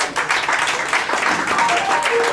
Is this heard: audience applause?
yes